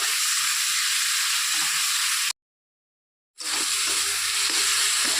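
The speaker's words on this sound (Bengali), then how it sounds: "তো মশলাটা ভাজা ভাজা হয়ে গেছে" Spices fry in a pan with a loud, steady sizzle and hiss while a vegetarian potato and cauliflower curry with lentil nuggets is cooked, broken by a brief silent gap before the sizzle resumes.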